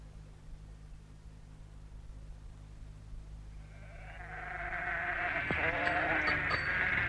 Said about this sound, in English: Now, get away, you silly sheep.